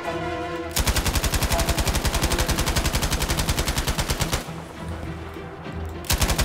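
Machine gun fire in the video game Battlefield 5: a loud, rapid, sustained burst of evenly spaced shots lasting several seconds, a brief lull of background rumble, then another burst starting at the very end.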